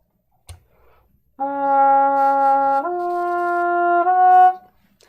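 A trumpet with its cup mute pushed closed plays three held notes, giving a buzzy, nasal, harmon-like tone, close and moderately loud after a brief click, with nothing else heard.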